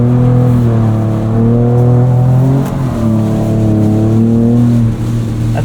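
A 2024 Ford Ranger Raptor engine drifting on a wet track holds a loud, steady drone, with its pitch dipping and climbing as the revs shift through the slide.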